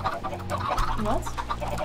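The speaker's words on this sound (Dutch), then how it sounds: "Tuur, die kippen" Chickens cluck in a Minecraft-style survival video game, several short clucks over steady background game sound and music, with speech-like voices mixed in.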